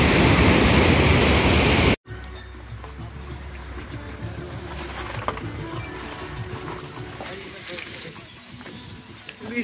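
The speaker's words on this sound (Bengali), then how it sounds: "তো দেখো গাজলডোবা ব্যারেজের উপর দাঁড়িয়ে আছে, এক প্রচণ্ড জোরে স্রোত বইছে, যে তিস্তা নদী।" Teesta river rushing with a strong current at Gajoldoba barrage, a loud, dense roar of water for about two seconds that cuts abruptly to a quieter outdoor ambience with people talking.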